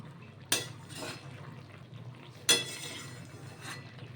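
Spinach cooked with fish heads is stirred in a pan, two sharp clanks of a utensil against the metal with softer scraping and wet shuffling between them, close and fairly quiet.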